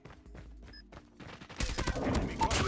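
Gunfire in the mobile shooter COD Mobile, starting with a few scattered quieter shots and then breaking into a dense, loud burst of rapid fire in the second half.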